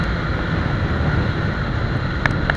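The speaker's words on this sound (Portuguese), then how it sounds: "Tá um pouco de vento, espero que não atrapalhe muito o áudio também." Wind buffets the microphone during a test ride on a Suzuki GSX 750 F motorcycle with an out-of-tune carburettor, a constant loud rushing roar with low-end rumble and a couple of brief sharper clicks near the end.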